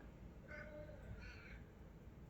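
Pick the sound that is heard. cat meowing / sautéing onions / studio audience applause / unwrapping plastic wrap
cat meowing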